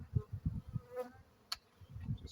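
Faint honeybee buzzing from an Apimaye hive drifts in and out in short bursts, with a low hum and a few soft knocks underneath.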